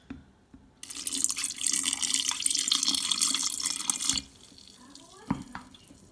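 Liquid pours continuously into a sauerkraut jar for about three seconds, a bright splashing stream that stops abruptly, followed by a few quiet drips and small clinks close by.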